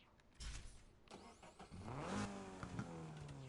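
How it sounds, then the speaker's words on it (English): A turbocharged car engine revs hard, rising in pitch through several loud surges before settling into a strained, sustained roar, with no voices. "That is a very angry engine."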